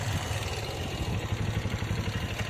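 A motorcycle engine idles nearby with a steady low throb and a faint mechanical clatter, continuous and fairly loud with no voices.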